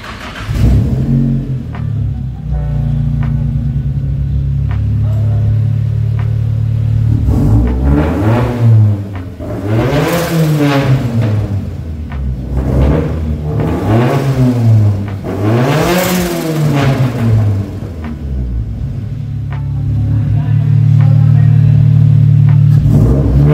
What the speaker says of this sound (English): They're busy fixing the 200 SX and just started it now.